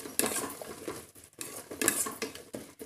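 A lid lifted off a pan of onions frying for tomato biryani, giving short metallic clatters and clinks of cookware over a faint background sizzle, close and quiet.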